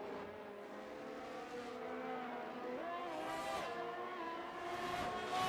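Race cars in a racing video game go past with engine whines that rise and fall in pitch. The sound is faint and sits beneath a commentator's voice.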